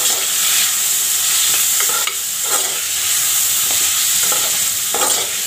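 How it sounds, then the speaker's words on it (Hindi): Two vegetables fry with spices in a pan for sambar, a steady loud sizzle with repeated scraping stirs breaking through, no voices. "इसको थोड़ा मसालों के साथ भून लूँगी।"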